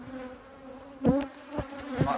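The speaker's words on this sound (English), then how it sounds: "And I sprayed all the bees on the outside." Honey bees buzz steadily around two backyard hives, a continuous drone with a few louder close passes as individual bees fly near.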